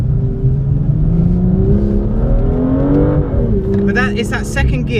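A BMW M2 engine revs hard while accelerating in second gear, with rising and falling tones and a loud, continuous roar throughout. People talk inside the car over it.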